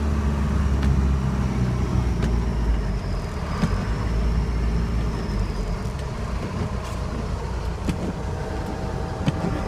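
A 1971 Ford F250 pickup with a 4BT Cummins diesel engine drives along a slick road in 4-wheel drive, a steady low rumble and drone with faint rattles and clicks throughout.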